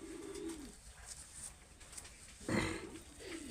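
A pigeon coos nearby in a few distinct low, throaty phrases, one stronger burst midway, against a quiet indoor background.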